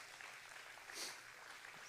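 An audience at a live summit talk breaks into applause, a soft, steady wash of clapping that rises briefly near the middle, heard from a distance and fairly faint.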